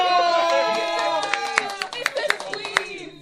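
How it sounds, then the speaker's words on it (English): Guests at an 18th birthday party clap in a loose, uneven round of applause, sharp individual claps spiking over sustained tonal sound and some chatter, close and fairly loud. "with a thunderous round of applause, put your hands together"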